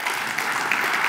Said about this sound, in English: I think you can give them a good clap.